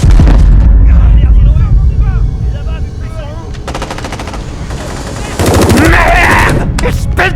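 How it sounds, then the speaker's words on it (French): Intense gunfire in a crime drama scene: loud, continuous bursts of automatic weapon fire with sharp shots and booms, swelling again near the end, mixed with shouting voices and a dense cinematic soundtrack. "ses hommes à l'assaut du repère de Jenard, une fusillade intense éclate"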